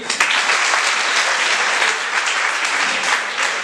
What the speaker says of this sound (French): Très bien, vous pouvez vous acclamer.